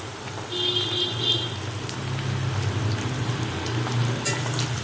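Sliced onions, green chilies and curry leaves fry in oil for a potato curry, a steady, fairly close sizzle with a low background hum and a brief faint whine early on.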